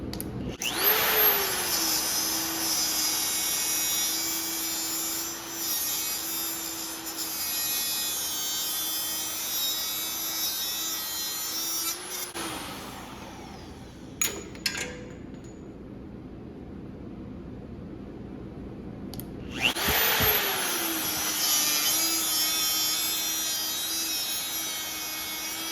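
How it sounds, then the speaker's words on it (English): A power saw cuts round steel tubing during firewall fabrication on a 1958 Plymouth build. A loud, steady motor whine runs for about twelve seconds, goes quiet with a few clanks, then starts again. "the blades like to get stuck and kick when you cut something round, or sometimes even square tubing, but especially round tubing really likes to kick"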